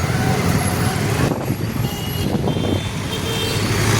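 Steady road traffic rumble with a truck or bus engine close by and a faint reversing beep, continuous and fairly loud throughout with no talk.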